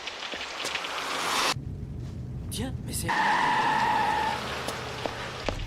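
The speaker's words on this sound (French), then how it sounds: "La pluie, toujours la pluie." Heavy rain pours down as a steady broadband hiss, interrupted by a short quieter gap before resuming, with someone speaking briefly over it.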